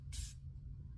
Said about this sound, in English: The Fenty spray.